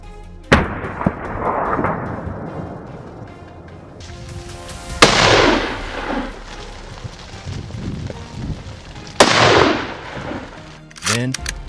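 Gunshots on a wild boar hunt on a mountainside, four loud sharp reports spaced a few seconds apart, each followed by a rolling echo through the terrain.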